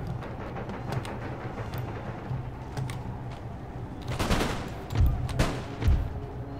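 Cannons fire canister shot in Empire Total War during a Russian bridge battle. Sharp, booming volleys build through a steady din of distant musketry, with several heavy blasts landing close together near the end.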